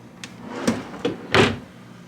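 Hotel room drawers in a Disney resort guest room slide open and shut in quick succession, a few close wooden scrapes and knocks ending in a firmer thud.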